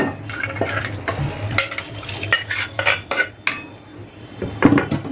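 A spoon stirs dal with added water in a metal pot, giving repeated clinks and scrapes against the pot in an irregular rhythm over soft liquid sloshing, close and fairly loud, with no speech.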